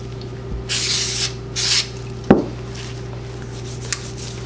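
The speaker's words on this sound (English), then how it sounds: "I'll take a little rem oil and spray it on the exterior" Two short bursts of Rem Oil spray hiss onto the exterior of a Browning Buckmark pistol, followed by a sharp knock and a faint tap, close up with no talking.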